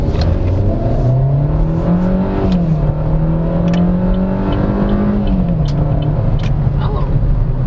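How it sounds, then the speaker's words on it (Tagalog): A 2015 Chevrolet Spin 1.5 LTZ with a 6-speed gearbox drives along, its engine drone steady and loud from inside the cabin, rising and shifting pitch as it accelerates, with a voice talking briefly over it. "Let's go for a drive. So, driving the 2015 Chevrolet Spin."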